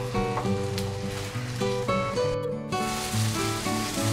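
Tomato masala sautés in oil in a pan for South Indian masala sundal, a steady soft sizzle running throughout beneath louder tonal background sounds.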